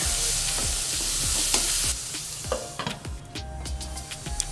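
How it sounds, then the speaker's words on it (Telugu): Tomatoes with turmeric and salt sizzling in hot oil for chaat, with a spoon scraping and stirring in repeated strokes over a steady close frying hiss that drops off partway through. "ఇలా వేసుకున్నాక వీటన్నిటిని బాగా కలిపి టొమాటోల్ని బాగా మగ్గనిద్దాం."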